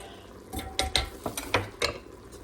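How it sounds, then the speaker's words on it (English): Beef stew ingredients stirred inside an Instant Pot, heard as a handful of distinct scraping and clinking strokes of a utensil against the pot, close and fairly quiet. "give these a stir"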